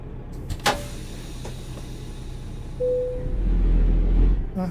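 Engine of a heavy truck driven in American Truck Simulator, a steady low rumble throughout with a brief mechanical click early on and a rising drone building toward the end.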